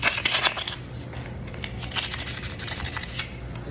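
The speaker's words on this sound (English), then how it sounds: "now get the ends sanded" Sandpaper rubbed against the ends of a silver piece during silversmithing work, making close, scratchy, rhythmic strokes that repeat steadily with no talking.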